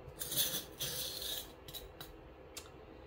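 Small metal charms, such as a little rabbit, a padlock and a star, clink and rub together in quiet handling, with a few faint light taps near the end.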